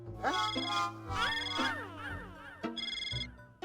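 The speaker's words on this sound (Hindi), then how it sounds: "वो यार तो मेरे फोन में घंटी बज रही है।" A melodic ringtone of stacked rising tones plays in bursts, loud and close, ending with a brighter trilling phrase.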